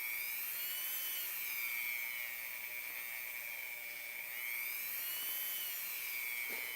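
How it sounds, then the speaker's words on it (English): A small rotary sander works a plastic belt on a Masters of the Universe Classics action figure. It gives a continuous high whine that waxes and wanes slightly in pitch and is fairly faint, with no talk. "let's go ahead and sand this around"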